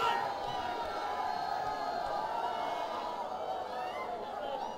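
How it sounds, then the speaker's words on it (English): A cricket stadium crowd at a Bangladesh Premier League match cheers and roars steadily, a dense sustained wall of voices with scattered whoops and shouts, heard from a distance throughout. "He gives plenty to cheer about for the crowd as well"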